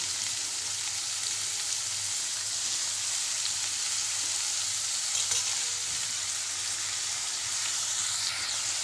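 Fenugreek leaves sautéing in a pan produce a constant, dense hiss of frying that stays even and fairly loud throughout, with no voices.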